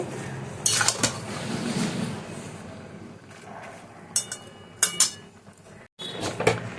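Pumpkin greens with mung and masoor dal being stirred in a pot, with scattered clinks and scrapes of a spoon against metal and a short pause near the end.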